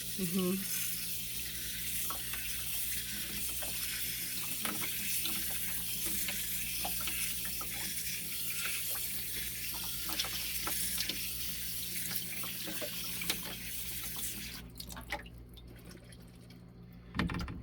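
Water runs steadily from a cabin water valve cracked slightly open, a continuous hissing rush with faint drips and splashes throughout, ending in a brief pause near the close.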